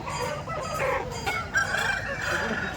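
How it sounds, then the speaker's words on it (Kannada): Chickens clucking and a rooster crowing nearby in a busy flock of native-breed poultry at the Kundarapalli chicken market, with faint voices in the background. "ಅದೇ ಒಳ್ಳೊಳ್ಳೆ ಜಾತಿ ಕೋಳಿಗಳು ಬಂದಿದ್ದಾವೆ"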